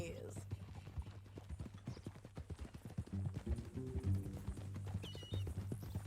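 Horse hooves clip-clop at a walking pace in Red Dead Redemption 2, faint irregular thuds under a low ambient hum, with people talking over parts of it.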